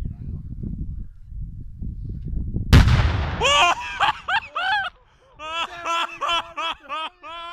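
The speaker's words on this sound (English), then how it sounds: "We felt the shockwave of the explosion" A powerful homemade gunpowder bomb set off for New Year bursts in one sudden, loud, close blast after a stretch of low rumbling, followed by excited laughter and voices.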